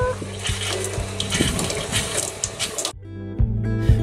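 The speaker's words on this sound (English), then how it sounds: "Oh, we have water!" Water rushes through newly fitted pipework in a Mercedes Sprinter van conversion, a loud, steady gushing that fills the clip, with a low rhythmic pulse underneath and a brief drop before the flow resumes.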